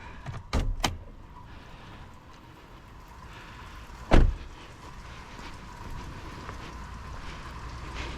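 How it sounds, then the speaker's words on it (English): A car's hood being released and popped open before a battery replacement: two quick clunks near the start, then a louder single thunk a few seconds later, over a quiet background. "I'm gonna pop the hood here."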